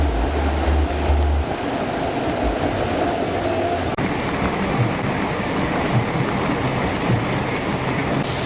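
Heavy rain falls steadily in the Vaigai river catchment of Theni district, a loud, dense and unbroken wash of downpour, with a few low rumbles and no voices.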